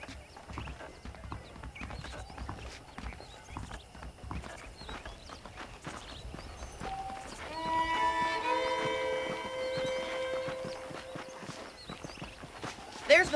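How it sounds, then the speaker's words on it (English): Horse hooves clip-clop at a steady walking pace in Red Dead Redemption, close and moderately loud, while someone talks over them and a brief musical cue swells in the background. "The horses are saddled up over here."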